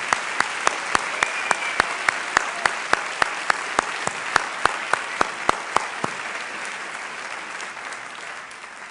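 Staff at a 2013 New York borough address receive a round of applause, a dense wash of clapping from an audience that holds steady, then thins and fades near the end.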